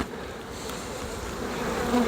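Honey bees buzz around a hive being moved into an Apimaye nucleus hive, a close, continuous droning hum that swells slightly toward the end.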